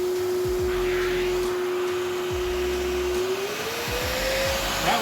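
A Festool dust extractor runs at its lowest suction setting, giving a constant loud rushing whine with a steady tone that rises slightly near the end, over lower rhythmic mechanical thumps.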